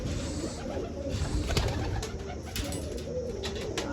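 Pigeons coo softly and repeatedly over a low, steady background rumble, with a few wing flutters.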